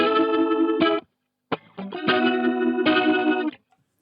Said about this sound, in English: I reckon some rotary stuff could be fun